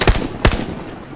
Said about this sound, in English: Oh, watch out, MG. Somewhere right there. Coming from here.